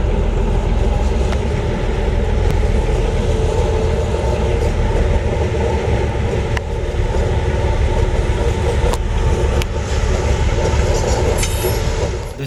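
Santa Fe 44-tonner diesel locomotive No. 463 pulls a new Sierra Railroad Baldwin S12 toward Oakdale, a loud, steady low rumble of engine and rolling wagons with occasional sharp rail clicks over the whole stretch.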